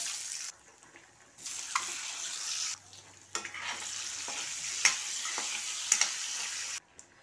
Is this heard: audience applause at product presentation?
no